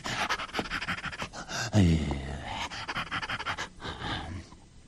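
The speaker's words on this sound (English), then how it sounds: "he saw an old hound lying in the road, gasping and panting" An old dog pants heavily in quick, rhythmic breaths, close by, with a brief louder gasp partway through; no talking.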